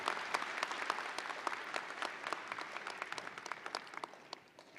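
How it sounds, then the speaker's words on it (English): Audience at a university fall commencement ceremony applauds the marshals, steady crowd clapping from start to finish that thins and fades slightly toward the end. "Let's give all our marshals a round of applause for their help and participation today."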